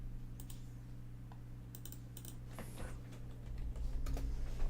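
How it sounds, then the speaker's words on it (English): Typing on a keyboard used as a typewriter sound effect: scattered quick clicks over a steady low hum, moderately faint, with no talk. "We can use a typewriter sound right here."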